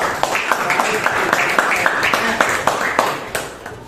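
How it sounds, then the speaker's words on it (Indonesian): A classroom of students in a Grade 12 Islamic studies lesson clap their hands together, sharp, fairly close claps in a quick uneven rhythm, with a murmur of voices underneath. "Tepuk tangan untuk kita semua."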